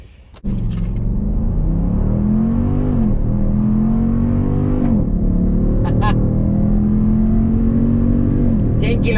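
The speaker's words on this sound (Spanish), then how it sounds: "gracias al Launch Control, esta Dodge Durango SRT alcanza de 0 a 100 kilómetros por hora en" A Dodge Durango SRT accelerates hard using launch control, its engine roaring loudly and steadily with rising pitch and gear-change dips across the whole stretch, and a few faint high clicks on top.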